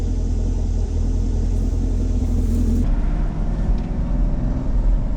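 A 2019 Chevy Camaro SS 1LE Track Pack with the LT1 V8 and a Tremec six-speed manual idles in a steady, deep, close rumble, with no voices over it.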